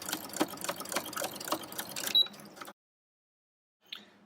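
A sewing machine stitches a quilt with an open-toe walking foot, running in a fast, even rhythmic clatter for over two seconds before stopping into silence, then a brief faint mechanical click.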